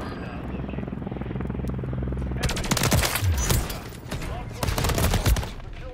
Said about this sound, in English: They've gone in the chopper.